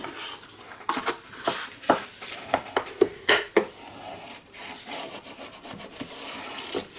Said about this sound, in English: And then just give that a nice burnish.